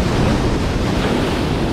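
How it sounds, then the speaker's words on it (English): Ocean waves surge and break against a rocky jetty, a loud, steady roar of surf with wind buffeting the microphone throughout and no talking. "So you gotta watch those waves though, man."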